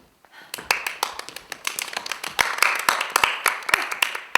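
An audience breaks into scattered hand clapping, a loose, irregular run of sharp, fairly close claps that thickens slightly over a few seconds, with no voices over it.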